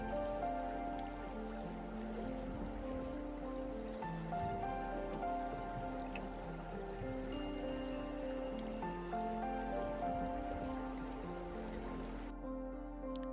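Steady rushing water of the Madison River in Montana flows continuously, a broad even wash of current with no voices, holding level throughout.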